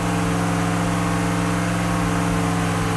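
A Chevelle engine runs on a dyno while warming up, a loud, steady low drone with an even mechanical hum and no change in pitch.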